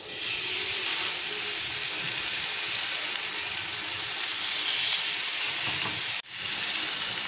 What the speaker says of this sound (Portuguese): Esquentou a frigideira, vou posicionar a câmera de novo e vamos embora. Tá bem quente.